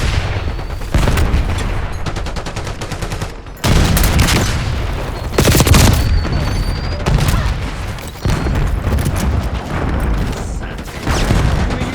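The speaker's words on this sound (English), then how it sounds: "Incoming flashbang." A flashbang goes off amid a Call of Duty Black Ops 6 firefight, with loud, dense bursts of gunfire and booming blasts rolling on almost without pause.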